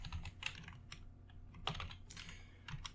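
Computer keyboard typing while coding Python, with a few scattered clicks and short bursts of keystrokes, close and fairly quiet over a low background hum.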